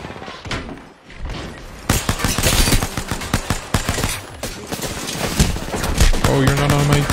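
Rapid bursts of gunfire and heavy thuds ring out in a shooter video game, loud and close, with irregular clusters of shots running through the whole stretch.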